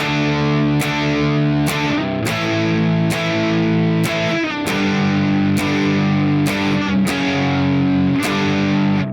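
Heavily distorted electric guitar strummed in a steady, driving rhythm, chords changing at regular intervals with crisp attacks, loud and close throughout.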